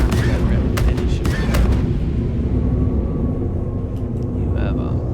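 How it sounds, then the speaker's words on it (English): Vanguard Harbinger quad cannons in Star Citizen firing a few heavy, spaced blasts early on over a constant engine rumble, then the roar continues alone. "And then you get the 4 slow firing quad cannons"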